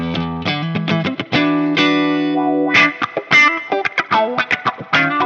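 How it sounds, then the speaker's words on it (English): A Fractal FM3 wah effect on a clean guitar tone, loud sweeping notes with a shifting, vocal-like filter, played in short phrases and sustained chords with no talking. "there's my wah"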